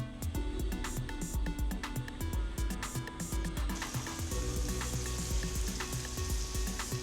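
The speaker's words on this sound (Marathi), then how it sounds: "मी कढईमध्ये तेल ठेवलं आणि जे काही आपण मिक्सरमध्ये काढलेलं होतं आपलं टोमॅटो कांदा लसूण ते कढईत टाकले" A tomato, onion and garlic paste spits and crackles steadily in hot oil in a wok, a loud, dense sizzle with sharp popping bursts throughout.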